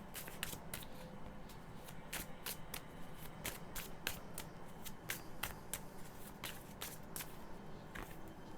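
A deck of oracle cards being shuffled by hand for a reading, giving a faint, close, continuous riffle broken by a steady stream of soft slaps and flicks.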